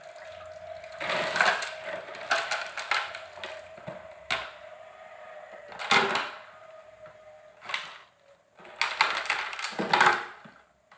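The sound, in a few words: ice cubes placed around glasses of solution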